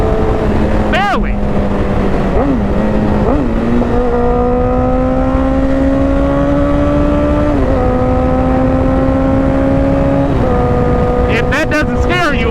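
A 1000cc motorcycle engine sits close and loud, revving and accelerating through several gear changes with a rising, droning pitch and sharp bursts at the start and end, under constant wind roar.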